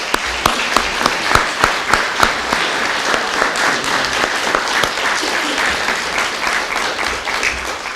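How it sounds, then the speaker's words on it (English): An audience at a mayor's press conference gives a round of applause, with steady clapping and some sharp individual claps standing out near the microphone. "Can we give them a round of applause?"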